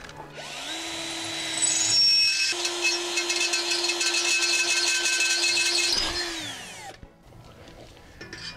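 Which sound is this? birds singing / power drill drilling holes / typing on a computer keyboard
power drill drilling holes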